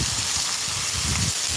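A venison burger patty smashed onto a hot grill sizzles in a loud, steady, close hiss with faint crackles underneath, and nothing else cuts through.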